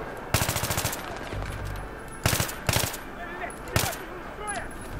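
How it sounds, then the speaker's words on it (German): Machine gun fire in the video game Battlefield 3, several sharp rapid bursts of automatic shots, loud and close, separated by brief pauses, with quieter battlefield noise in between. "Maschinengewehr. Hier auf 12 Uhr."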